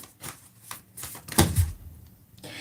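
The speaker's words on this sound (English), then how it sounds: "I'm going to shuffle again." Tarot cards shuffled by hand in a short riffling burst that swells in the middle and fades, alone with no talk over it.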